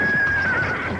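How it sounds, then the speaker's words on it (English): A horse neighs loudly and shrilly after being spooked by an electric fence, one sustained close whinny lasting about a second with no other sound over it. "when a horse spooks, they run"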